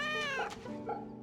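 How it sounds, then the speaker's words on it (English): Cat meowing in the video game Fate Samurai Remnant, two drawn-out mews in quick succession, clear and fairly close over faint background game sound. "He's a good kitty."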